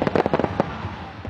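Fourth of July fireworks burst in a quick run of sharp cracks and pops that settle into a fading rumble, loud and fairly close.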